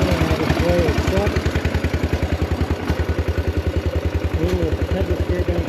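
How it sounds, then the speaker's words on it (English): Antique stationary engines run together at a Midwest Old Threshers show display, giving a loud, steady, rhythmic thumping chug with a rattling clatter on top, close by and continuous. "I've got every engine running on my display"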